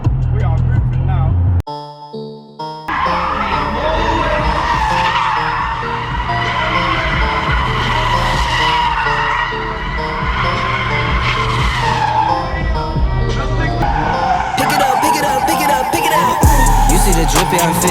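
Cars drifting at a London car meet, tires squealing and skidding loudly over revving engines for a sustained stretch, with a sharp cut partway through and shouting voices around it.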